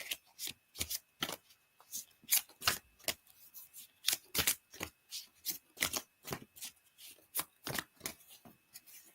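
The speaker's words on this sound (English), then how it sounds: "let's get a flower card for you." Flower cards being shuffled for a psychic reading, a close, crisp run of rhythmic riffling snaps repeating steadily throughout with no talking.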